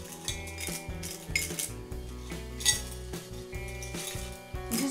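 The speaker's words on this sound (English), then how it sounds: "So here's the fun part. We get to fill up our pot with gold." Craft gold coins tumble into a small pot, giving bright, continuous metallic clinks and jingles as handfuls drop and settle against one another.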